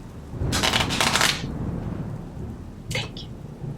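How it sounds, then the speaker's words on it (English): Tarot cards cut and shuffled by hand, a close burst of riffling and snapping card edges lasting about a second, followed by a brief second flick of cards against quiet room tone. "Please cut the deck for me."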